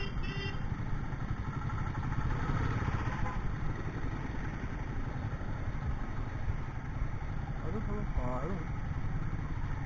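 A parked motorcycle's engine idles with a steady mid-pitched chug at a busy traditional Assamese festival, while people talk nearby over the running engine.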